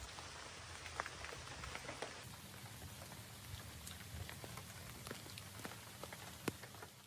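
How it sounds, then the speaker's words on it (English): Steady rain pattering on a small camper trailer during a solo camping trip, a dense even hiss with scattered sharper drops tapping the roof up close, and no voices. "It's raining some more."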